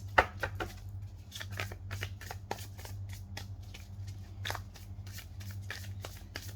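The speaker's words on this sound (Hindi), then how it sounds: "पहले स्टार्ट करते हैं with the shuffling of cards." Tarot cards shuffled by hand during a reading, a steady run of crisp riffling flicks and slaps close to the listener over a low constant hum, with no talking.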